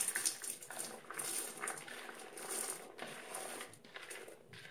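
Chopped carrots, celery, onions and garlic tumble into a soup pot of split pea and ham soup, a soft clattering splash of vegetables into liquid, fairly faint and continuous with no talk.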